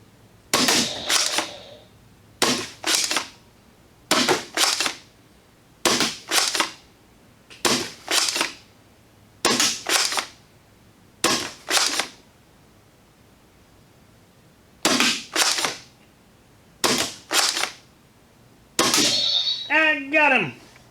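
Air rifle plinking sounds as a steady series of sharp, loud shots about one to two seconds apart, each with a short, crisp decay, and a longer pause partway through before more shots follow.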